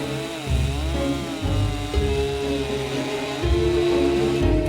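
A chainsaw cuts through a large Christmas tree trunk outdoors, its engine revving up and down in repeated bursts as the chain bites into the wood, loud and close with no talking.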